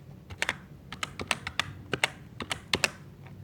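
Rapid keystrokes on a computer keyboard while entering an Excel formula, a steady run of sharp clicks with brief pauses, close and clear with no talking.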